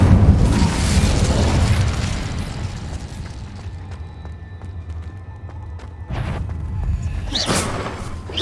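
Incendio, a fire spell in Hogwarts Legacy, lands with a loud whooshing burst and rumbling boom that fades into a low crackling hum, then a second bright flare near the end.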